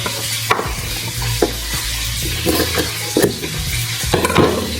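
Fish sizzles steadily in a frying pan, loud and close, broken by several sharp clicks and scrapes of a utensil stirring against the pan, with no talk.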